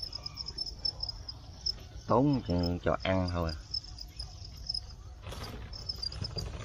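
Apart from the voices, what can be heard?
crickets chirping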